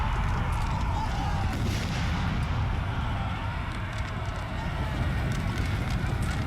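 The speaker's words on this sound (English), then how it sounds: "Canister shot." Canister shot cannon fire in Napoleon: Total War rolls across a battlefield as a dense, continuous roar of artillery and musketry, loud and unbroken throughout with a faint wind-like hiss.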